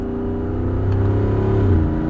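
A Jeep Wrangler 392 V8 sends out a deep, loud, steady exhaust drone that climbs slightly in pitch as the engine revs, close by and unbroken.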